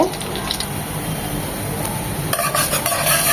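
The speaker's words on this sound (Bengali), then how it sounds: "তেলটা গরম হয়ে এসেছে দিয়ে দিচ্ছি দু চামচ রসুন কুচি" Two spoonfuls of chopped garlic sizzle steadily in hot oil in a pan, a continuous close frying hiss with occasional stirring scrapes, while Bengali fish-head and pui shak curry is being cooked.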